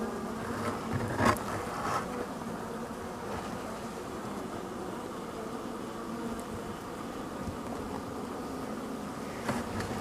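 A honeybee colony being readied for winter fills the hive with a steady, continuous buzzing drone, heard close and unbroken for the whole stretch, with a couple of brief louder swells near the start and end.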